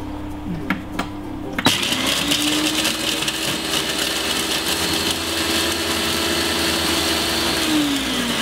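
After a couple of short clicks, a food processor chopping herbs with breadcrumbs whirs into a steady, close motor whine. The whine holds for about six seconds, then winds down at the end.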